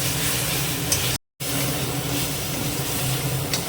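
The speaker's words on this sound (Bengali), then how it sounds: "দেখুন মশলাটা কি সুন্দর কষানো হয়েছে।" Masala for egg curry sautéing in a pan, a continuous close sizzle with a steady hiss, interrupted by a brief complete dropout before resuming, no voices present.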